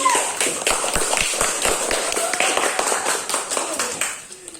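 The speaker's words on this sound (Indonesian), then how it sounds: "Tepuk tangan untuk kelompok 2 dulu" Applause from a class group in a teaching practice session, a dense spread of claps lasting several seconds and then fading out, with a few voices underneath.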